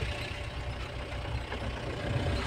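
A goods vehicle's engine running while the vehicle is being turned around, a steady low diesel-like rumble close by that stays even throughout, with no voices.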